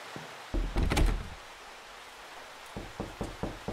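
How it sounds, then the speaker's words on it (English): A door in a horror video game closes by itself, giving a heavy sliding thud followed by a rumble. A series of softer knocks comes a few seconds later, all quiet and without talk. "I think that fucking door closes on its own."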